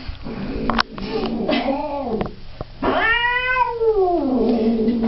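Angry cat on a vet's examination table letting out long drawn-out yowls and growling moans, close and loud, rising and falling in pitch with short pauses between.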